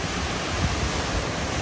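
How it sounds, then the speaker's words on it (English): Waterfall at Sycamore Falls, Arizona: a dense, steady broadband rush of falling water, loud and continuous with no voices. "Well, we're at the next waterfall here."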